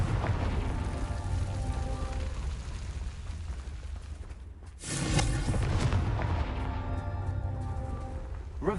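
Confringo fire spell bursting in Hogwarts Legacy, a sharp explosive boom midway with crackling debris over a busy rumbling game background, fairly loud with no talk.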